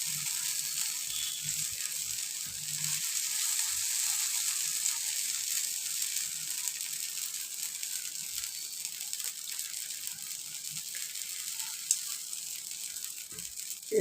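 Dosa batter sizzles in an oiled kuzhipaniyaram pan, a steady high crackling hiss running throughout with faint scattered low knocks.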